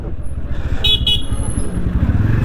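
Busy road traffic on the Haridwar–Badrinath route: engines rumble nearby while two short, close car horn toots sound in quick succession, then a fainter, longer honk follows, with a voice talking over the noise.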